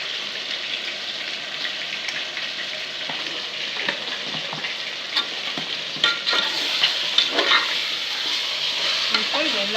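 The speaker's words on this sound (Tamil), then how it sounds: "எல்லாத்தையும் நல்லா வதக்கணும்." Meat curry with masala is sautéed and stirred in a pan, giving a steady, close sizzle with scraping stir strokes and occasional louder spatters and clinks.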